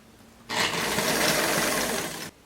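A sewing machine stitching ruffles onto a casual dress, starting abruptly and running at a steady, even whir for nearly two seconds before stopping cleanly, close and loud against a quiet room.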